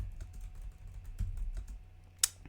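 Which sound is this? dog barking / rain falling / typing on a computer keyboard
typing on a computer keyboard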